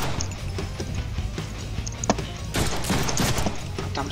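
Rapid gunfire bursts in a Deadpool video game, sharp cracks rattling over a busy game soundscape, with a denser volley toward the end.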